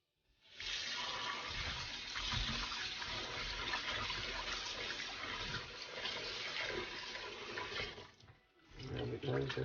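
Raw chicken wings are rinsed under a steady stream of running tap water, a continuous splashing and hissing of water over meat in a sink that runs for about eight seconds before briefly stopping and restarting.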